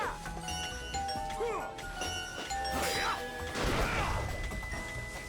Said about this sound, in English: You have to have the ding-dong sound.